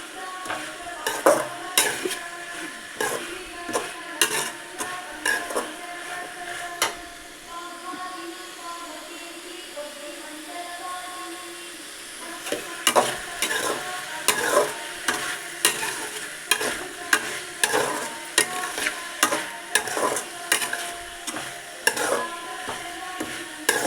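Food sautéed in a pan with brisk, repeated clinks and scrapes of a spoon against the metal over a constant sizzle, pausing briefly midway before the rapid stirring resumes, close and fairly loud.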